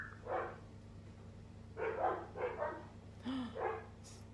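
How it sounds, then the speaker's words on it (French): Several dogs bark in irregular bursts, loud and fairly close, over a constant low electrical hum with a brief whine between barks. "Vous entendez mes chiens?"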